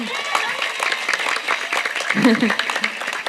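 A congregation at an Islamic religious gathering breaks into belated applause, a moderate ripple of clapping with speech and murmuring over it.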